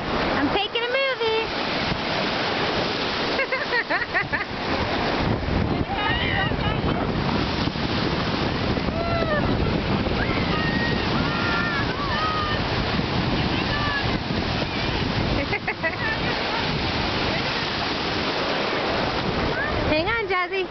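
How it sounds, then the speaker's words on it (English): Strong ocean surf rolls and crashes continuously at a beach, a dense roar mixed with heavy wind buffeting the microphone, with people talking faintly through it. "The waves are pretty strong."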